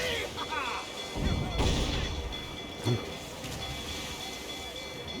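Ship cannon fire during a naval battle in Assassin's Creed 4, heavy booms and crashing blasts over continuous battle noise and shouting voices, with a sharper thud near the end.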